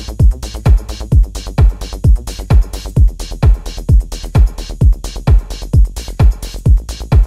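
A rolling synth bass built in Massive with sidechain compression pumps in a steady, fast repeating pattern, each note ducking and swelling in a tight loop, loud and alone.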